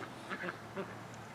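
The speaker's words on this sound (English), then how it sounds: "The ducks are loving on each other." Ducks on a homestead quacking, two short nasal quack bursts close by, fairly faint against a quiet outdoor background, no talk.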